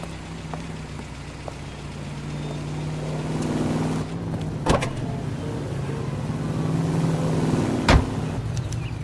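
A car in L.A. Noire tailing a cab, its engine a steady low hum with faint road noise, broken by a couple of sharp clicks or thumps midway and near the end.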